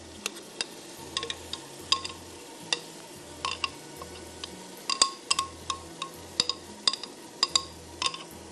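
Metal utensil clinks and scrapes repeatedly against a pan as marinated mutton sizzles steadily in frying masala, close by, with a low background hum.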